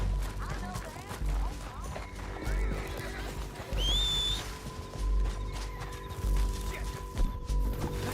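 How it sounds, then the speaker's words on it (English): Horses neighing and whinnying with clip-clopping hooves in the Red Dead Redemption 2 video game, a sharp whinny rising midway over steady hoofbeats, game ambience and voices around them. "We need our horses."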